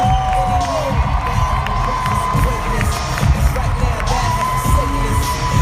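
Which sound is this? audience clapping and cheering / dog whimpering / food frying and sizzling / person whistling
audience clapping and cheering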